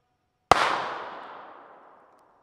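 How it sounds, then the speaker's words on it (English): A single loud, sharp blast from a .44 Magnum blank fired into a melon, a sudden crack followed by a long, fading rush that dies away over about two seconds, alone and close. "Now we move on to .44 Magnum blanks."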